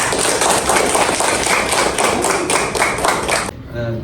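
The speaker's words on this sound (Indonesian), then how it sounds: "Boleh kembali ke tempat dan kita berikan aplaus." Applause from an audience during a lecture or teaching session, a dense run of claps that stops abruptly near the end.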